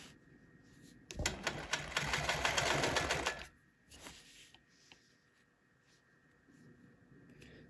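A sewing machine quilting a curved cross hatch guided by rulers gives one fast, loud burst of stitching lasting about two seconds, then drops to near silence with a few faint clicks.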